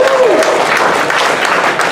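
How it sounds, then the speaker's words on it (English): An audience at a security conference talk applauds for the DEF CON Parties group, a loud, dense burst of clapping and crowd noise that starts as a brief voice trails off and fades slightly near the end. "let's give them another round of applause"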